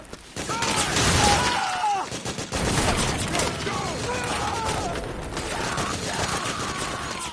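Gunfire crackles through a Metal Gear Solid 4 battle: rapid, dense bursts of shots and mechanical clatter mixed with shouted combat voices, loud and continuous with brief lulls.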